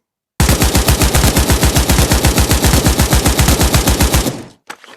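A full-auto rifle firing 7.62 rounds in the VR shooter Pavlov Shack lets out one long, sharp burst of about thirty rapid, evenly spaced shots. It cuts off after about four seconds, followed by a couple of faint mechanical clicks.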